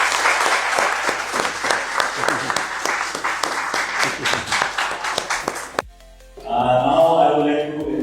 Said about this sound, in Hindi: मैं चाहूँगा कि सब अपने लिए तालियां बजाएं।